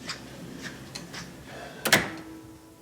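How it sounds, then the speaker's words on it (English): A door in a TV drama set is pushed shut, ending in a single solid thud with a short rattle, preceded by faint light knocks and footsteps, quiet otherwise with no speech. "Close the door, please."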